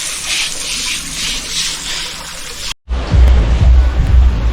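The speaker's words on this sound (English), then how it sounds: "Okay, so Jamie is cleaning the stepping stones, all the mud off it," Water gushes and splashes steadily and loudly while pond stepping stones are washed clean of mud; a brief break is followed by a heavier, deeper rush of spray.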